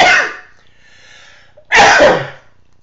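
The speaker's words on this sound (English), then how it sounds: "I feel a sneeze coming on." A loud, sharp sneeze bursts out, followed by a quiet pause and a second forceful sneeze, both close and alone.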